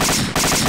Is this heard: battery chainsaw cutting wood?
no